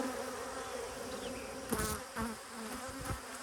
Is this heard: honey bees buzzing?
yes